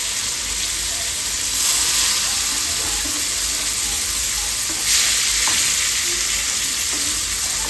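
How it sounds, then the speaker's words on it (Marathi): Fish frying in a pan in a home kitchen, a steady loud sizzle and crackle with brief swells as pieces are turned, no speech. "किती छान मस्त अशी फ्राय झालेली आहे मच्छी"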